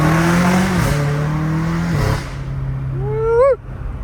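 BMW M5 Competition with a titanium catback exhaust, a loud close engine drone that drops off, then a sharp rising rev blip near the end before cutting out.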